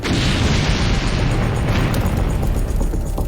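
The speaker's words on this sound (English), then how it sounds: "One explosion is so powerful that it sends firemen running for their lives." A powerful explosion at a chemical fire, heard as a loud, continuous roaring blast that fills the whole stretch with dense, rumbling force and no voices.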